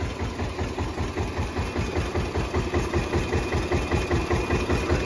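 A tube-well water pump motor running on a farm field, a steady rhythmic low engine chug with regular pulsing beats throughout, fairly loud and close, with no talk.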